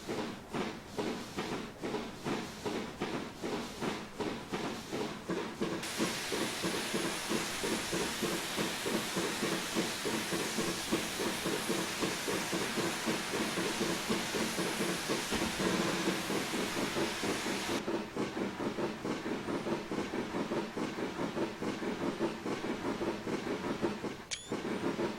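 BR Black 5 steam locomotive pulling away in Train Simulator 2015 on the Western Lines of Scotland, a steady rhythmic chuffing that quickens, with continuous steam hiss swelling loudly midway and carrying on throughout.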